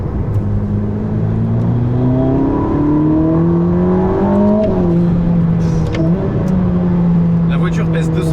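A Ferrari SF90 Stradale hybrid hypercar with 1000 hp and 960 Nm of torque accelerates hard, its engine note climbing steadily, briefly dropping at a gear change, then pulling again, loud and close under someone talking.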